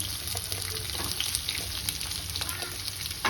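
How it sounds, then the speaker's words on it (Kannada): Chopped bottle gourd sizzling in a hot pan on a low flame, a steady, close frying hiss with light crackles and a stirring scrape near the end, no talking. "ಈ ಟೈಮಲ್ಲಿ ನಾವು ಹಚ್ಚಿ ಇಟ್ಕೊಂಡಿರೋ ಸೋರೆಕಾಯಿನ ಇದಕ್ಕೆ ಹಾಕೊಳ್ತೀನಿ ಸ್ವಲ್ಪ ಲೋ ಫ್ಲೇಮ್ ಮಾಡಿ ಹಾಕೊಳ್ಳೋಣ"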